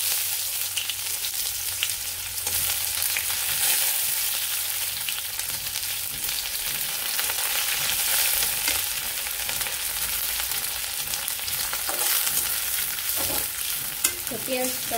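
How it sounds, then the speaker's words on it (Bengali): Chopped onions fry in a pan with cumin, giving a continuous close sizzle with scraping stir strokes throughout and no voices. "পেঁয়াজটা প্রথমে ভেজে নামিয়ে নিব।"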